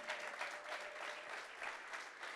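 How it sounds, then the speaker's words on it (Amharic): A church congregation at a prophetic worship service claps in praise, producing rhythmic bursts of clapping that pulse steadily throughout, with faint voices mixed in. "አጨብጭቡ ለጌታ ክብር"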